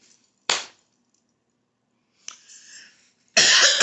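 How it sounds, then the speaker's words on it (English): A woman gives a sharp single cough, then after a pause a short throaty cough, and finally a longer, harsher cough, all close and loud. "I'm coughing now"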